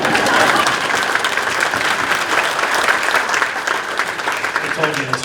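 An audience at an award dinner applauds, a dense steady clapping that fills the room and tapers off slightly toward the end.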